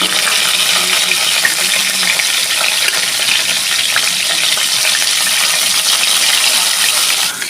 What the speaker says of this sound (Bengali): মাছগুলো ভালো করে লাল লাল করে আমি ভেজে নেবো